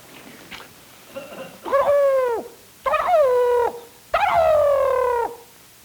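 A voice imitates a homing pigeon call, giving three loud, drawn-out warbling hoots after a few soft preliminary sounds, close and alone without other talk.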